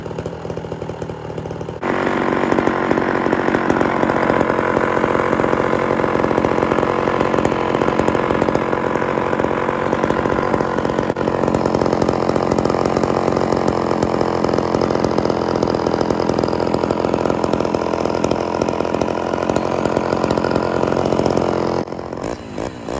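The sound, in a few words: Homelite Super XL chainsaw idling with rebuilt Tillotson carburetor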